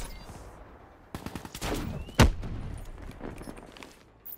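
Shots boom through a firefight in The Division, the shotgun among them, with a quick burst of cracks followed by one heavy blast midway. Nothing is spoken over it.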